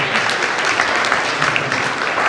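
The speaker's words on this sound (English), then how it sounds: "Clap for us." Dense, continuous applause from an audience at a university awards ceremony, loud and close, sustained throughout without pause.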